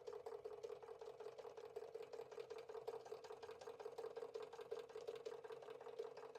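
A Marklin 16051 model steam engine runs with a steady, fast, rhythmic mechanical chatter, faint and continuous without a break.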